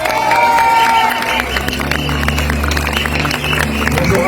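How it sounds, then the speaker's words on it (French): Crowd cheering and applauding a speaker at a rally, loud continuous clapping mixed with shouts and voices, with sustained tonal sounds running underneath. "On peut l'applaudir très fort."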